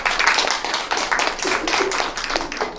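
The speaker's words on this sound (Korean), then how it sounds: "다시 한번 박수 부탁드리겠습니다" Steady applause from a conference audience after a speaker's presentation, many hands clapping in a continuous, dense patter that holds for a few seconds without pause.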